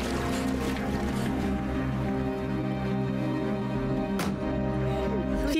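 A motorboat engine drones steadily and loudly on the water, with a constant roar and a brief sharp burst near the end, no talk heard.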